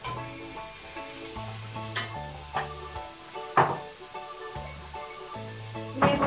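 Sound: onion and vegetables sautéing in a Cecotec Conga 3090 robot

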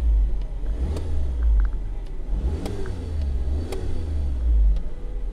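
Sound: Mini Clubman Cooper S engine being revved

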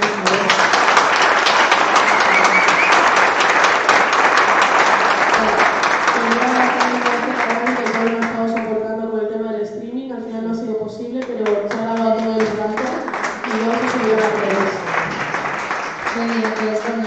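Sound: audience applause for a debate organiser

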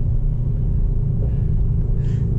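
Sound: Mercedes AMG GT 63S engine barking in race mode

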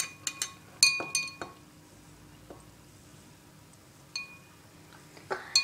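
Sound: fork stirring an egg in vinegar in a glass

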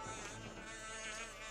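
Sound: buzzing bees in a video game

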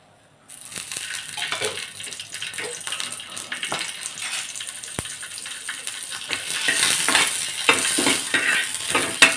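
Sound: green chilies roasting in oil in a pan

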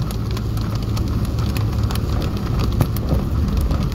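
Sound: heavy rain on a flooded street

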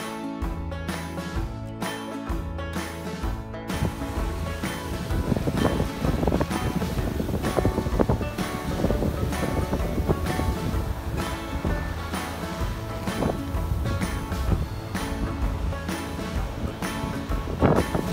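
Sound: strong wind and waves around a sailboat

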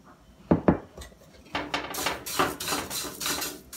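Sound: roasting chivda (poha) stirred in a pan

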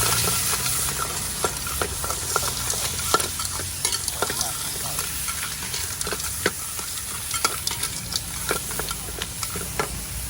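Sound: stir-frying in a wok

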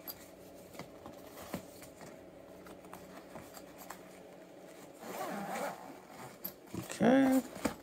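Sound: unzipping the top of a Fender Rumble 800 HD amp cover

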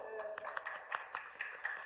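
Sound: audience applause at an exhibition opening

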